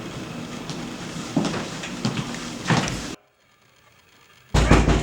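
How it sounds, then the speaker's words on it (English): Heavy knocks bang on a door in a few loud, uneven thuds over a steady background hum, then a brief near-silence before another burst of banging. "Open this door."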